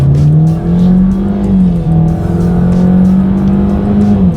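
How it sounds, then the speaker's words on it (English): A 2019 Ford Escape with a 1.5-liter turbocharged four-cylinder pulls hard under acceleration, its loud engine drone climbing steadily in pitch, briefly dipping at a gear change, then rising again. "Let's do a quick little acceleration test here and see how quickly we can get this one here up to speed."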